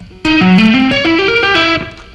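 A distorted electric guitar rips through a string-skipping tapping phrase, sharp tapped notes climbing and falling in a steady rapid rhythm, loud and up front with no other sounds.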